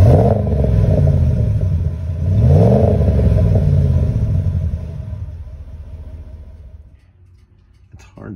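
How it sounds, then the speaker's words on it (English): A 2020 Ram 1500 with the 5.7 Hemi V8 and a Flowmaster Super 44 muffler rumbles through two quick revs, then settles and fades toward a low idle, loud and close by. "I'm really pleased thus far with the sound of this interior, this muffler."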